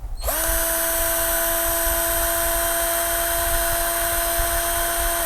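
DCK KDJZ1202 12V cordless drill driver spinning at speed 1, a loud, steady high whine that starts abruptly and holds an even pitch throughout, with no talk.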